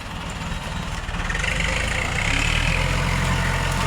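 A hired farm tractor idles steadily in the field, its low, throbbing engine rumble near and continuous and swelling slightly louder partway through, with no voices.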